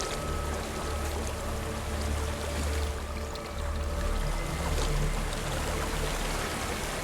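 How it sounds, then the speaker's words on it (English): A waterfall in the game Hellblade: Senua's Sacrifice gives a steady, broad rush of falling water, constant and fairly loud with a low rumble, no voices. "There's a waterfall."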